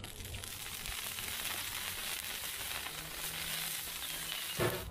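Olive oil sizzles on a hot Blackstone griddle as a steady, hissing crackle. It holds at an even level, with a brief clatter near the end and no one talking.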